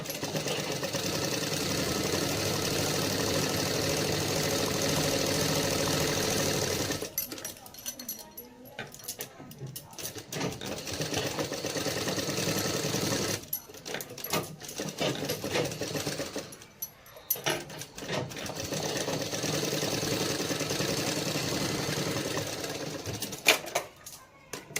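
Sewing machine running in long continuous bursts while double-stitching a blouse seam, a steady close whirring broken by brief pauses, with faint talk in between.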